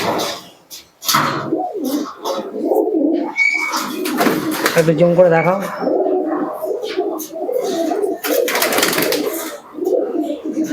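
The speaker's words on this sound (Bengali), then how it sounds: "একদম বদলেজের কবুতর আছে" Malbai pigeons coo softly in low, throaty bursts close by, while people talk intermittently over them.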